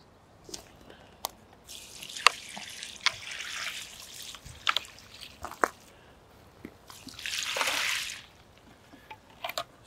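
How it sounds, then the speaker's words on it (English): Diluted biochar brew pours from a bucket onto a growing mix, giving scattered drips and trickles and then a longer splashing gush near the end, close and fairly quiet. "we're going to pour that on"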